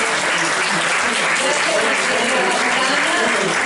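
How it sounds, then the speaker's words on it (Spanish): Loud, steady applause from a large crowd, dense clapping continuing throughout without a break. "un forte applauso"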